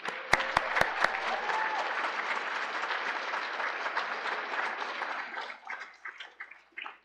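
An audience applauds six finalists at a start-up pitch night: a few sharp claps up front, then dense sustained clapping from a crowd that thins out and fades over the last couple of seconds.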